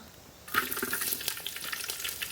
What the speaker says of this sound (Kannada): ಈರುಳ್ಳಿ ಫ್ರೈ ಆಗಬೇಕು ಸ್ವಲ್ಪ ಫ್ರೈ ಆಗಬೇಕು